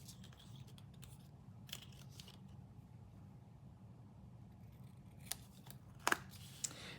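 Scissors cut a tiny piece of stamped paper for a scrappy Halloween card, a few faint snips and rustles over a quiet room hum, ending in a couple of sharper clicks.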